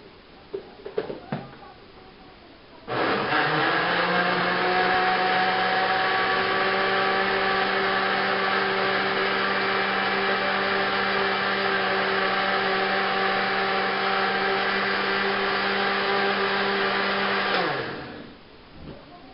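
A blender whirs loudly and steadily for about fifteen seconds mixing a strawberry milkshake of ice cream and milk, after a few brief knocks, then winds down and stops.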